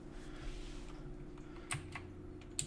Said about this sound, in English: hacker keyboard here.